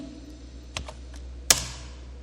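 Keys tapped on a computer keyboard while a command is entered in a terminal, a few soft clicks followed by one sharp louder keystroke, close and alone in a quiet room.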